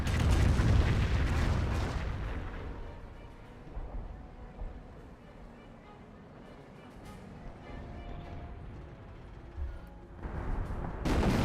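Artillery barrage in the Company of Heroes video game: heavy booms and rumbling blasts, loud at the start and end, with a sustained low rumble and scattered impacts between them.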